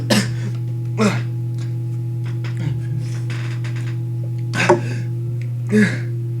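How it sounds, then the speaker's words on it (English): Several short coughing bursts from a character in the Doki Doki Fallen Angel mod, spaced irregularly over a steady low electronic hum, fairly close and moderately loud. "I start to cough uncontrollably while the other members just stare pitifully"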